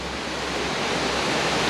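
A powerful waterfall in Bali, one of three close together at the end of a short hike down from the road, roars as a loud, steady, dense rush of falling water with no break.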